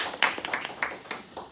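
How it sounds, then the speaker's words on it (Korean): A church congregation claps in welcome, a brief scattering of hand claps at moderate distance, quiet and uneven over about a second and a half. "우리 환영의 박수."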